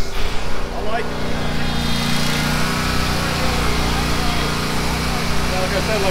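A Yakta riding lawn mower engine runs steadily at an outdoor equipment expo demo, a constant buzzing drone close by, with a person talking over it.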